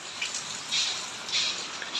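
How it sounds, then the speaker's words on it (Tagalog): Rain falling outside during the rainy season makes a steady, close hiss with soft swells of heavier patter, alone and without voices. "Ayan oh, maulan talaga."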